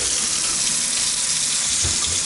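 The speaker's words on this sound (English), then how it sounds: "Great water pressure in this unit. drains beautifully." A sink faucet with a spray adjuster in an apartment unit runs at strong pressure, a steady close hiss of rushing water with a faint gurgle of draining near the end.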